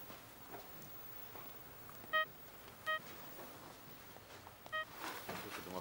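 Three short beep-like tones, evenly spaced and moderately loud, in a quiet room with faint background noise.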